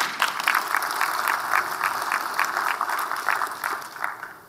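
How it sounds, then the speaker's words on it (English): An audience applauds speakers at a technical talk on securing the software supply chain; steady, dense clapping runs throughout at moderate loudness, fading slightly at the end, with no voices over it. "So please applause them."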